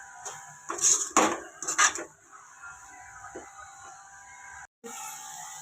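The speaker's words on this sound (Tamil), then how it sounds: "இப்போ நல்லா மிக்ஸ் பண்ணி விட்டுக்கோங்க" A spoon scrapes and clatters against a pan as ground coconut and cumin are stirred into manathakkali greens, a few loud metallic scrapes up front, then quieter rubbing over a steady background hum.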